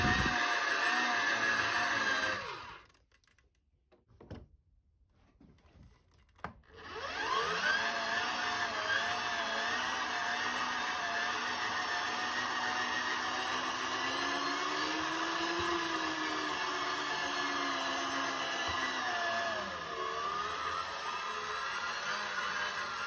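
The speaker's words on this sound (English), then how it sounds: "So every one time I turn this handle, the end spins five times." A hand crank generator whirs loudly and steadily with a whining, geared drone, then cuts out briefly to near silence before spinning back up and holding a continuous whir, pitch dipping slightly toward the end.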